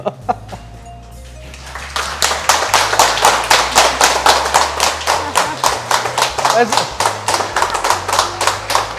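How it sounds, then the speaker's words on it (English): A small group of people clap steadily for several seconds at the close of a cocktail food episode in Guyana, a rapid, dense burst of close, lively applause that follows brief quiet talk. "That's the first time I got an applause at the end of it."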